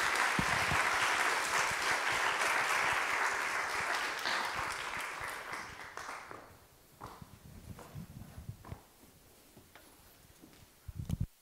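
Audience applause at a church forum, a dense roomful of clapping that swells and then thins out over several seconds, leaving scattered claps, shuffling and footsteps, with a brief burst of claps at the end.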